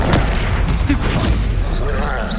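Stupefy stunning spell cast in the Hogwarts Legacy video game: loud percussive bursts amid dense combat noise, with a voice calling out the spell over the action.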